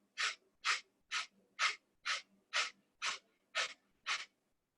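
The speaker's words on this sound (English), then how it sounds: "and 10 short breaths." Nine short, sharp breaths of a yoga breathing exercise, evenly spaced about half a second apart, close and fairly quiet with silence between each.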